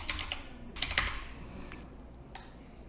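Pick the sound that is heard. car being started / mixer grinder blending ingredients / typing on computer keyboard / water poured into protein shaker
typing on computer keyboard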